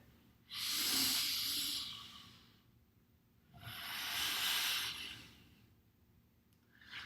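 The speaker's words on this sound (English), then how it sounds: "So the air actually comes out of my chest, back into my stomach, back out, and I push the last bit out by pulling my stomach in." Two long, forceful breaths from deep meditation breathing, each a broad airy rush that swells and fades over a few seconds, with a quiet pause between them and a third starting at the end, close and alone.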